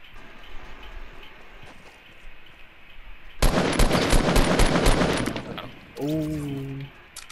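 Gunfire in the Fortnite video game: a dense, loud burst of rapid shots lasting about two seconds rises over quiet background noise, followed by a short tonal sound.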